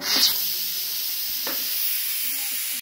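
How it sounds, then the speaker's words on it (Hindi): Steam hisses steadily from a pressure cooker as its weight is lifted after cooking chicken and potatoes, a loud continuous close rush with a couple of faint clicks early on. "अब मैं ऊपर से वेट उठाने लगी हूँ।"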